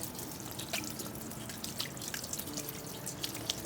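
Tap water runs into a sink during handwashing, a steady close splashing trickle with small drips throughout and no talking.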